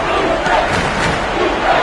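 Arena crowd in the NBA 2K26 basketball video game, a dense, loud roar of cheering fans holding steady throughout with no clear individual voices.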